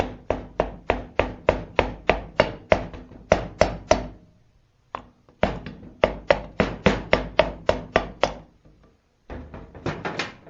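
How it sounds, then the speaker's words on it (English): Rapid, even taps of a hammer handle on wood while reassembling a small engine, in quick rhythmic runs separated by brief pauses, close and crisp. "Using the handle of a hammer, just kind of"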